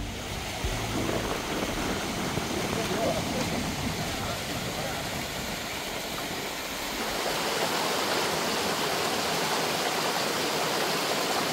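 Water flowing in a small stream during traditional fishing, a continuous rushing broadband wash that stays steady for several seconds with a slight shift partway through, heard close with no clear speech.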